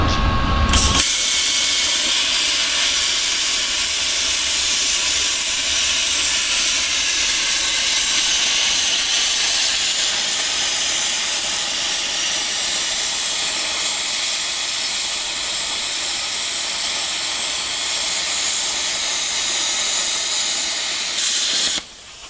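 Thermal Dynamics Cutmaster 40 plasma cutter with a drag shield cutting through a half-inch piece of metal: a loud, continuous, close hiss that starts abruptly, holds steady for about twenty seconds, then cuts off.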